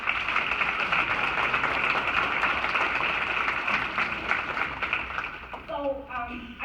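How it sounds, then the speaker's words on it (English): Applause from the audience at a women's naturalization ceremony honoring family members, a dense steady wash of many hands clapping at even loudness throughout, with a voice beginning to speak near the end. "Let's give your family members a round of applause."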